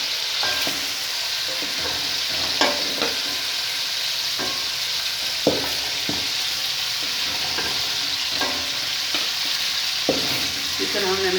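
Chicken fries in hot oil with a continuous bright sizzle and crackle, close and steady throughout. Occasional scrapes and knocks of a stirring utensil punctuate it, with no talk.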